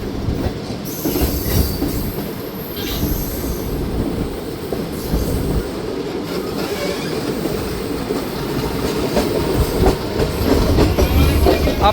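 The Shalimar Express passenger train rolls steadily along rails, heard from on board as a continuous loud rumble with rhythmic wheel clatter and occasional metallic squeals, no talking.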